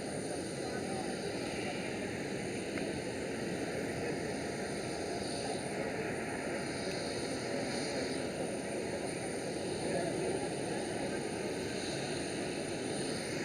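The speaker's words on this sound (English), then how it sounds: "There is the 737 that just landed." A Boeing 737 that has just landed at Amsterdam Schiphol gives off a steady, distant jet engine drone, with continuous broadband roar and faint whine throughout. People speak quietly in the background.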